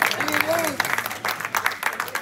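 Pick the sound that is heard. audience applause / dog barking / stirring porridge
audience applause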